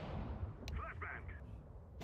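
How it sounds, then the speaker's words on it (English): A flashbang grenade bursts in a Counter-Strike 2 matchmaking game, giving a low, booming rumble with a sharp crack near the start and another at the end, all fairly faint in the mix. "Flashbang!"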